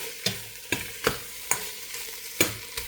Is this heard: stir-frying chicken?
yes